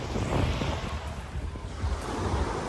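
Ocean waves washing onto Shell Beach in St. Barts, a steady close surf wash with soft swells and light wind buffeting the microphone, with no talking.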